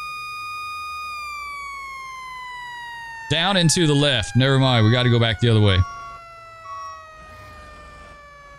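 A fire truck siren from the firefighting video game Into the Flames wails in long, slowly falling tones, joined midway by a brief rapid yelping pattern, while someone talks over it.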